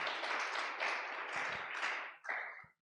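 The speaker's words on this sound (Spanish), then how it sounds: "Dale un fuerte aplauso a Dios" Church congregation giving a strong round of applause, a dense burst of many hands clapping that swells briefly, then a short final flurry before stopping abruptly.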